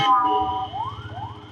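An ambulance siren wails in short rising sweeps, with traffic rumbling underneath and a brief horn-like tone at the start, heard from a motorcycle on the road in Kerala.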